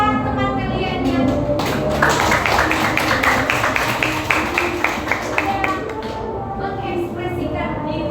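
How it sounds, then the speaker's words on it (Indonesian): A classroom of students claps for two classmates, a dense patter of hands lasting several seconds, with an adult voice sounding around it. "Tepuk tangan untuk kedua teman kalian yang"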